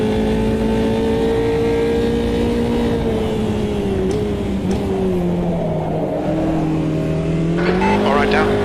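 A race car engine in Automobilista 2 holds a steady high drone with small pitch dips as the driver lifts and reapplies throttle, loud and close, with a brief tyre or gear noise near the end.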